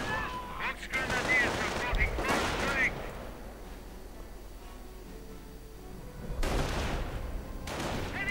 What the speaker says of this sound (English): Artillery flying